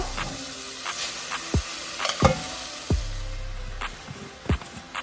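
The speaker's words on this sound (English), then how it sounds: "So I'm going to add my pasta." Pasta tossed into a pan with broccoli and garlic oil, sizzling softly with scattered stirring clinks and scrapes, a few sharp utensil knocks on the pan.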